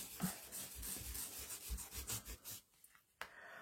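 Repeated rubbing strokes of an ink-loaded foam sponge across a stamped art journal page, soft and close, with a dry scuffing rhythm and a few brief pauses near the end.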